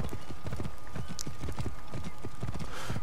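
Horse hooves clip-clopping in Assassin's Creed Origins, a quick steady run of hoofbeats from a ridden horse, loud and close, with a faint whinny-like accent and no speech.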